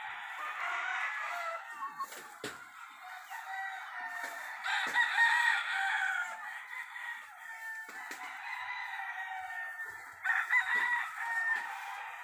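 Chickens cluck and roosters crow again and again across an outdoor pen with food and water, with several crows rising over steady background clucking at a moderate distance.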